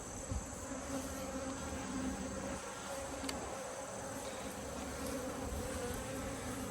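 Honey bees buzzing around an opened hive during a fall inspection, a steady dense drone that stays fairly quiet and close without any voices.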